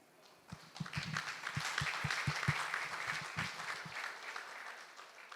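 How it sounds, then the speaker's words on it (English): Audience applause for a winning team at a conference event, a crowd clapping together in a full, fairly distant wash that builds and then tapers away, with a few sharper claps standing out near the start. "give a cheering applause for Team Red Lotus"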